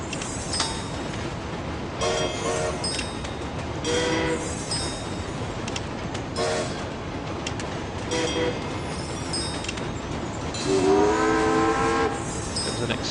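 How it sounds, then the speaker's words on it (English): An express train in the Train Conductor World video game rumbles steadily with rail noise, while short horn toots sound at intervals and a longer, louder horn blast comes near the end, with no talking. "There's an express train"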